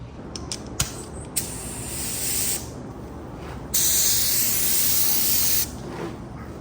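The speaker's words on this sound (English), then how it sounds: "So let's go ahead and spray them." A can of primer sprays in two bursts, a few short spritzes, then a sustained hiss of about two seconds and a louder, longer blast of about two seconds, up close with no talking.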